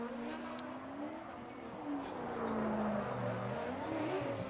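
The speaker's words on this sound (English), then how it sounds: "a very unique sounding exhaust note from Dai Yoshihara" A Subaru BRZ drift car piloted by Dai Yoshihara at a drift competition, its distinctive exhaust note droning and rising and falling as it slides through the course, continuous and moderately distant with crowd ambience around it.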